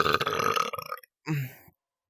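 A loud, close human burp rolls out for about a second, followed after a short pause by a second, shorter burp.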